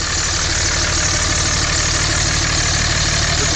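Dodge 5.9-liter 24-valve Cummins turbo diesel idling steadily, a loud, dense and constant engine rumble with a fast diesel clatter and a turbo whine on top, nothing else heard.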